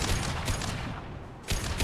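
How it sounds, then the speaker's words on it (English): A high-impact shot fired in Mass Effect 2, sharp heavy gun bursts in quick succession at the start, then a pause before another loud blast. "Firing a high impact shot."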